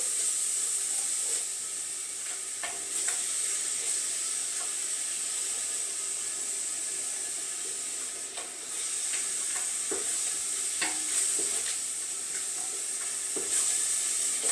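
Oregano and other herbs frying in oil for a Southern Italian pasta sauce make a continuous hissing sizzle, with scattered stirring clinks and scrapes of a utensil in the pan, close and moderately loud, no talking.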